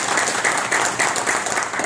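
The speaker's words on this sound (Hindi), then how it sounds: "एक बार जोरदार तालियां अपने उस दोस्त के लिए।" Audience applause at an AWPL welcome program, a steady dense patter of many hands clapping together at moderate loudness with no voices over it.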